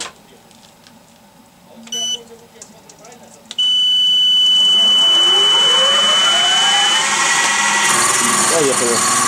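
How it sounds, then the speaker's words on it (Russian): Milling machine starts up and runs loudly and steadily, machining the cover of an IZh Planeta Sport 400 motorcycle engine in a workshop; a high whine and broadband cutting noise continue after a brief beep-like tone, with short talk beforehand. "Включаем станок."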